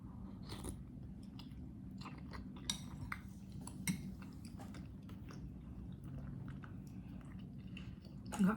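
Someone eats bakso aci, tapioca meatballs, with soft close chewing and biting and a few light clinks of cutlery against a bowl, quiet and intimate with no talking.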